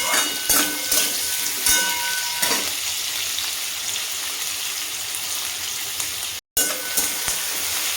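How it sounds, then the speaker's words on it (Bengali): Sliced onions fry in hot white cooking oil, a steady close-up sizzle with brief stirring clatters and a short dropout near the end; nobody talks. "সাদা তেলটার মধ্যে এই পেঁয়াজগুলো দিয়ে দেবো।"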